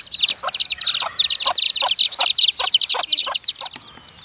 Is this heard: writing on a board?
no